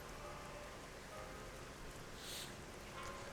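Steady heavy downpour in the video game Shadowrun Hong Kong, dense rain hiss pattering on surfaces throughout, fairly close and constant, with no voices over it.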